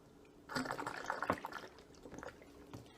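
Rubbing alcohol is poured into a container being filled for an herbal tincture, giving a faint, close liquid trickle with small splashes and drips that lasts a couple of seconds.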